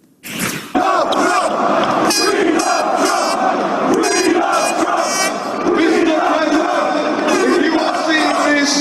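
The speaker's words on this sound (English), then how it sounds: "A large crowd, enthusiastic Brits, showing their support for President Trump in a very visible way." A large crowd of Trump supporters in Trafalgar Square, London, bursts into loud rhythmic chanting and cheering, voices roaring together in repeated surges that continue throughout.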